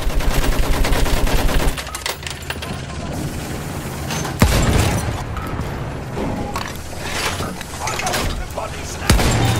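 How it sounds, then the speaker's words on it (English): Sustained machine-gun fire in the Battlefield 1 video game, a loud rapid burst at the start giving way to scattered shots, impacts and battle noise, with a sharp loud crack near the middle and another at the end. "Enemy machine gun, sight it! There's a machine gun!"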